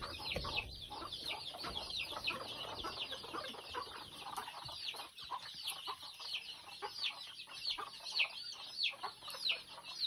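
Many chickens cluck and chatter continuously in a busy, crowded backyard flock at feeding time, with overlapping calls close by and no talking.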